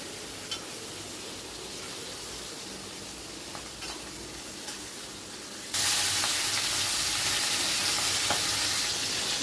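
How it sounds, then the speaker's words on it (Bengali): A fish head fries in hot oil over a high flame while being stirred continually, giving a steady crackling sizzle that jumps abruptly louder and hissier partway through. "হাই ফ্লেমেই রেখেছি, অনবরত কিন্তু নেড়ে নেড়ে ভেজে নিতে হবে।"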